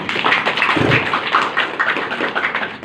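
A crowd at a community gathering applauds in a dense, steady wash of many hands clapping, loud and sustained throughout with no talk over it.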